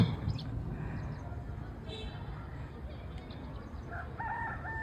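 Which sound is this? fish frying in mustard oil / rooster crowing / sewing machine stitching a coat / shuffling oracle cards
rooster crowing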